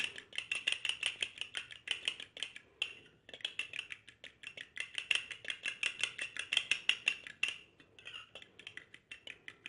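A spoon clinks rapidly against a bowl while whisking an egg face pack mixture, giving a fast steady rhythm of bright metallic taps, close up, with one brief pause before the mixing resumes.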